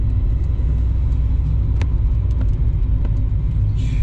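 A car slows down on a road and changes gear, giving a steady loud engine and tyre rumble from inside the cabin, with a few faint clicks and no talk.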